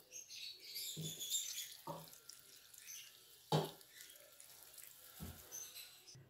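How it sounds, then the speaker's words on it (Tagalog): Water pours from a glass into a cooking pan of milkfish with olive oil and oyster sauce, splashing in a few brief bursts amid quiet kitchen background. "Lalagay tayo ng tubig."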